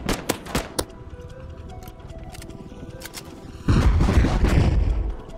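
A helicopter firing rockets in the video game Rust: a quick string of sharp, loud blasts up front, a quieter stretch, then a dense, rumbling barrage to the end.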